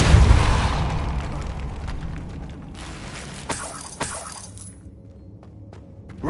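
Depulso spell cast in the video game Hogwarts Legacy, a heavy blast that opens loud and decays into rumble, followed by a few sharp cracks and clattering debris fading to quiet.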